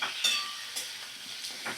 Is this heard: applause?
no